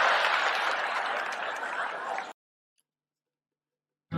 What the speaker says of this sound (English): a round of applause, please, for Mike here